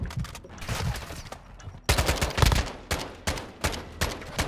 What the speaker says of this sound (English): Good clean shots right there, Suspensy.